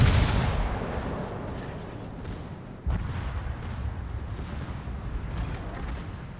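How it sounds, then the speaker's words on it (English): Warship secondary battery guns keep firing in World of Warships, a steady rolling barrage of booms and crackle that swells again near the three-second mark, loud and close with no talk over it. "Secondary is still going off on that CV, trying to burn."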